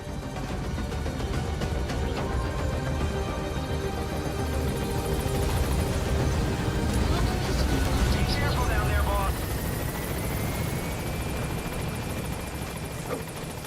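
A helicopter in Metal Gear Solid V: The Phantom Pain thrums with a continuous rotor and engine roar, steady and prominent, while voices talk over it.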